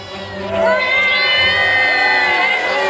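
An audience at a Christmas stage show cheers for racing boats on stage, loud shouting and whooping voices, many sounding like children, rising together and holding at full volume.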